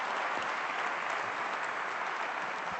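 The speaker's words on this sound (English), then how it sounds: "Nice round of applause." Audience applause at a business forum, a dense steady wash of many hands clapping at an even level throughout.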